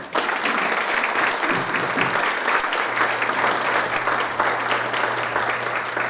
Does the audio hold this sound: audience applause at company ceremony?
yes